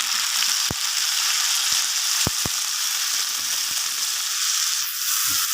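Chicken with garam masala, black pepper and a little stock sautéing in a pan, a loud continuous close sizzle with a few sharp clicks of a utensil against the pan.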